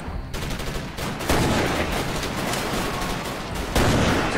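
Sustained bursts of rapid gunfire in Commandos: Strike Force, with loud, dense rattling shots, growing heavier midway and again near the end, with no talking.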